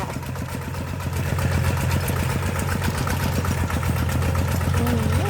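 An old Kubota ET11 11-horsepower walk-behind tractor engine running close by, a steady low chugging single-cylinder throb with even rhythm and slight vibration, continuous and fairly loud with no voices.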